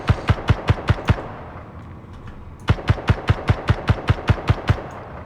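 Automatic weapon fire in Space Engineers comes as two loud, evenly spaced bursts of sharp shots, the first about six rounds and the second about a dozen after a short pause, with no talk.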